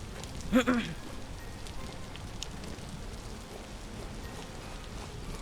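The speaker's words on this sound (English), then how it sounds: "unfortunately it is raining" Steady rain falling in the survival video game Vintage Story, a continuous soft hiss throughout, with a brief thump near the start.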